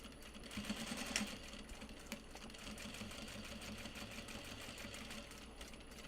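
A sewing machine back-stitches through upcycled obi and kimono fabric, a fast, even mechanical chatter running steadily for several seconds, quiet and close with no talk.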